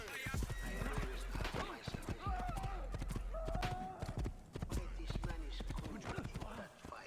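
Rhythmic clip-clop of horse hooves with a neigh in the video game Assassin's Creed, heard at low level beneath someone talking over it.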